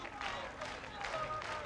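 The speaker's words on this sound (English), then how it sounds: "listen to this crowd. Absolutely loving Jesse Marunde." A crowd at a 2005 strongman Grand Prix event in Poland applauds steadily with a diffuse, distant clapping texture while a commentator talks over it.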